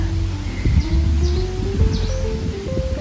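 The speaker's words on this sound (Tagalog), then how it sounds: "Ang maririnig nyo lang ay mga huni ng ibon." Birds chirp faintly at a distance over a coconut farm in Catanauan, Quezon, with short high calls set against steady rustling and a low, constant background hum.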